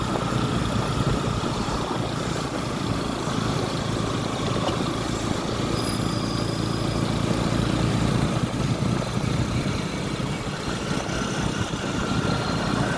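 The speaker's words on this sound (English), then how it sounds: "We are using a motorbike." A motorbike engine hums steadily throughout a ride on the road from Kampala to Luwero, a continuous, close, droning rumble with wind noise and no pauses.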